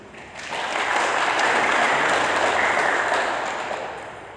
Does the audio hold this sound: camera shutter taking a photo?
no